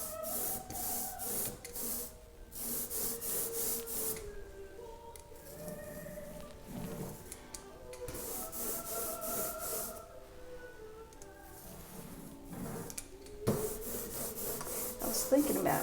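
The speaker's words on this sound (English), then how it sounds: "So I'm going to roll these on now, and the ink is tacky. It sounds very tacky and nice." A roller spreads tacky, water-washable ink across a printmaking block. The rubbing and rasping comes in repeated strokes with short pauses between them, quiet and close, alongside faint background sounds.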